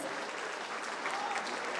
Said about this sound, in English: Huge big round of applause.